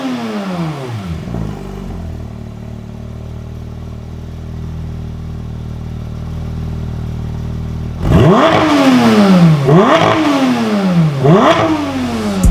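A Porsche GT3 RS sports car engine revs sharply several times through its exhaust, idles low for a while, then revs again in three rising, roaring pulses up close.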